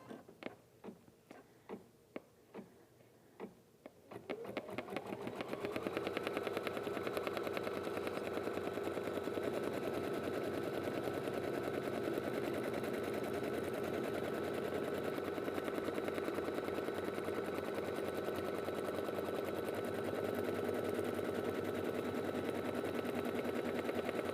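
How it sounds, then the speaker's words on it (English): An embroidery machine stitches a placement stitch on stabilizer, starting with a few sharp separate clicks, then settling into a loud, continuous, rapid mechanical whir and tapping that runs steadily to the end. "So the first thing the machine does is stitch a placement stitch for me."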